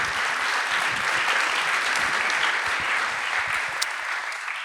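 An audience at an animation industry conference bursts into sustained applause, a dense continuous wash of clapping from a roomful of people, fairly loud and steady from start to finish.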